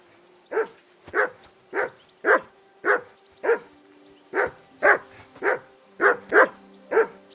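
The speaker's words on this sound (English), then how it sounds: "I assume you can hear that damn dog of yours barking." A dog barks about twelve times in a steady, insistent rhythm, loud and near, in the medieval game Kingdom Come: Deliverance 2, with faint background tones underneath and no voices.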